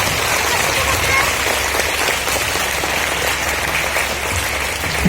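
Congregation clapping loudly in praise during a Telugu church worship service, a dense continuous roar of many hands sustained from start to finish.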